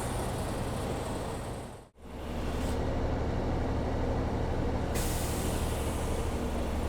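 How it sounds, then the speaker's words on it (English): A bus air compressor governor cuts off at 130 psi with a sharp hiss, followed by a brief hush and then steady engine idle with a rumbling air-brake system. "that was our governor cut off. It cut off at 130 psi."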